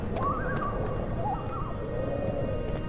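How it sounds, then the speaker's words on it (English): Outdoor birds in the game Amnesia give a few soft, wavering coos and chirps over a dense low ambient rumble, moderately close. "Oh, birds outside, I guess."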